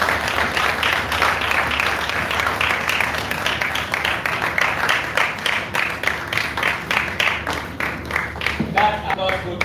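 An audience at a formal gathering applauds in a dense, continuous wash of clapping that holds steady throughout, with a voice speaking over it.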